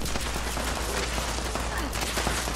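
Gunfire in the Fallout 76 video game: a dense, continuous crackle of rapid shots under a loud, noisy wash of sound, with no clear talk.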